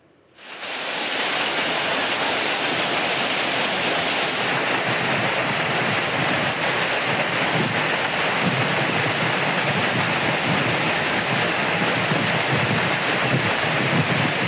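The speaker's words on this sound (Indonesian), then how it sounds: "Butiran es sebesar uang koin yang menghantam atap gedung tersebut menimbulkan suara gaduh" Heavy rain mixed with coin-sized hailstones pelting building roofs on a campus in Sleman, Yogyakarta, a dense, steady roar that swells in after a quiet first second and holds loud and constant with no voices.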